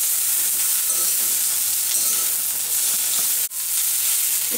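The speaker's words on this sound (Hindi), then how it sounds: "जैसे ही हल्का कुक होगी इसमें शिमला मिर्च डालेंगे, पत्ता गोभी डालेंगे, अच्छे से मिक्स करेंगे।" Capsicum and cabbage stir-fried for veg Hakka noodles give off a loud, steady sizzle that hisses without a break, with a momentary dip near the end and no voices.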